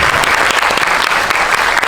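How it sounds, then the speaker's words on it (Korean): An audience at a film screening applauds, loud, dense clapping filling the hall steadily and without a break. "큰 박수 한번 보내주십시오"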